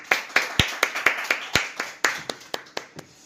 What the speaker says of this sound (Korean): 우리 먼저 예배 드리기에 앞서가지고 하나님 앞에 영광의 박수 올리도록 하겠습니다.